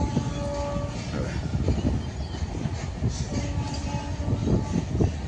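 A train on the Central Railway line near Diva, Maharashtra, rumbles steadily along the tracks with a rhythmic clatter of wheels, heard from a moderate distance against a constant low roar.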